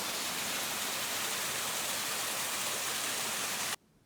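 A mountain stream rushes along a hiking trail in a steady, dense hiss, loud and constant, before cutting off abruptly into near quiet at the end.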